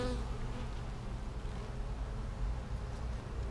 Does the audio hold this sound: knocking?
no